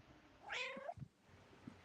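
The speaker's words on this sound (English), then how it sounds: "The cat's being loud." A cat lets out one loud, drawn-out meow with a falling pitch, followed by a few faint low bumps against a quiet room background.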